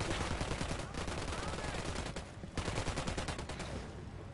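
Dense video game gunfire from Ghost Recon Wildlands, sustained rapid automatic bursts and overlapping shots crackling continuously with a brief lull midway, loud and close.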